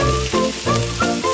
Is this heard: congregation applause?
no